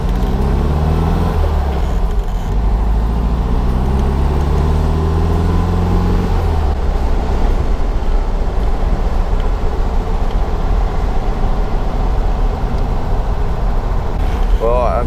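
A 1961 VW Ragtop Beetle, a survivor car fresh from brake and final repairs, idles and runs with a steady low engine rumble throughout, close and continuous, under occasional talk.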